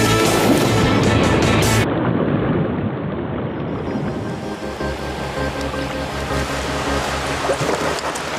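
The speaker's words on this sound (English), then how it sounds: "there's quite obviously not enough force in these waves for a bloke to surf" Ocean waves surging and washing in continuously at close range, loud and unbroken, with a denser roaring burst of surf in the first two seconds before settling into a steady churning wash.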